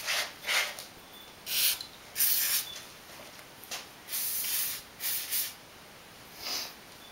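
Aerosol lubricant sprayed onto bicycle parts before disassembly: eight or so short hissing bursts of varying length separated by brief pauses, close and fairly loud, with no voices.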